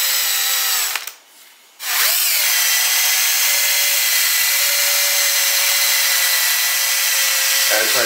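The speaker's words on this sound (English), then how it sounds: "I have a drill, and I am going to put some polish on here." A power drill with a wool polishing pad whirs loudly and steadily, pauses briefly near the start, then spins up again and runs continuously with a rubbing, buffing edge.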